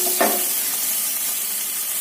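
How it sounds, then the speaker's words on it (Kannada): Sliced onions frying in a pan with salt, a dense, steady hiss throughout, close and fairly loud, with one brief scrape of stirring near the start and no talk. "ಈರುಳ್ಳಿ ಚೆನ್ನಾಗಿ ಫ್ರೈ ಆಗಿದೆ."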